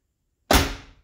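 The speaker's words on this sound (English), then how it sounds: "Push the button, hear that pop, just like that" A single sharp thunk from a 1970s Ford car door as the button is pushed and the latch pops against the newly replaced striker bolt. It comes after a moment of silence, close and loud, and fades quickly.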